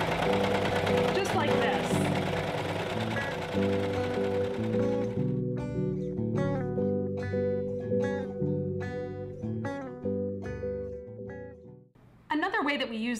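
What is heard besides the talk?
serger sewing interior seams on t-shirt fabric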